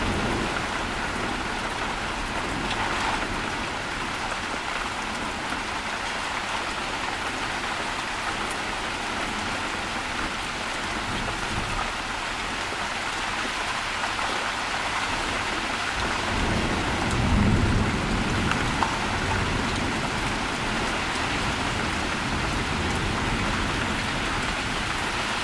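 An intense thunderstorm in northeastern Texas pours heavy rain in a dense, constant hiss, with a low rumble of thunder swelling briefly near the end amid windy conditions.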